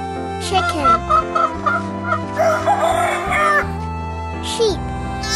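A rooster crows loudly in a drawn-out cock-a-doodle-doo, with clucking fowl and gobbling turkey-like calls around it over music.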